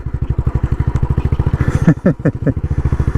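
A Royal Enfield Bullet 500 trials replica motorcycle climbing a rugged hill, its single-cylinder engine thumping in a fast, even, close-up beat with a brief clattering burst partway through.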